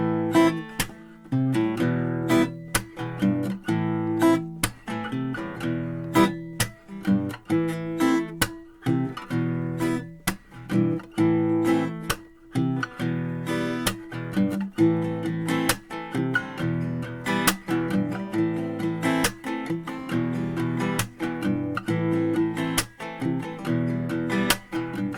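Reggae-style electric guitar plays a song: steady choppy strums mixed with picked bass notes in a loping rhythm, close and clear with no voices.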